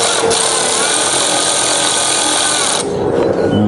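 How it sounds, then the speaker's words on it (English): A speed ratchet tightens bolts while DV8 pinch weld covers are fitted on a 2024 Ford Bronco Outer Banks: a loud, close, continuous whirring rattle that runs for about three seconds, then stops abruptly. "speed ratchet here. Tighten down."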